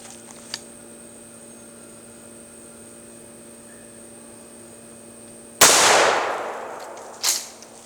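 A 12 gauge shotgun fires a Federal upland hunting round outdoors, one loud close blast that rings and fades over about a second, followed by a shorter, sharper knock after a quiet wait.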